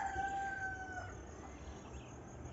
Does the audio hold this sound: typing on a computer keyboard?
no